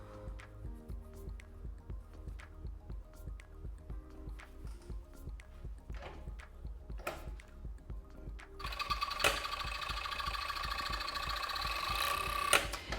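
A domestic sewing machine stitches the side seams of a child's fleece sweatshirt, a steady fast mechanical chatter that grows louder and brighter partway through, with no talk.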